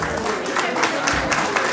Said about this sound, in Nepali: भयो भने ताली बजाइदिनु होला।